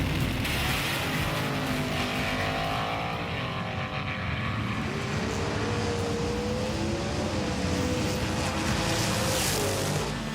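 Race cars racing on Mount Western Raceway in a video game, continuous loud engine drone with rising and falling revving whines as cars accelerate and shift.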